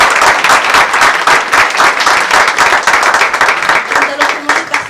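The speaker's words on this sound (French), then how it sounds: "je vous prie d'applaudir pour encourager le groupe" Steady, loud applause from a crowd at an Easter worship evening, many hands clapping continuously throughout without a break.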